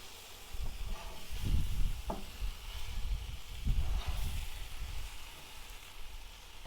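A giant ground-beef Juicy Lucy burger on a grill gives off a low, steady sizzle and hiss, broken by a few soft thuds and shuffles as it is handled up close.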